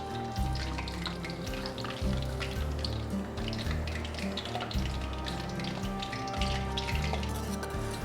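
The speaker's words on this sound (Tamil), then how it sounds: "நம்ம கொஞ்சம் முந்திரியை, தேவையான முந்திரி பருப்பை நம்ம அதில் வறுத்தரலாம்" Steady sizzling and bubbling of cashews frying in hot oil, continuous and close, with no talking.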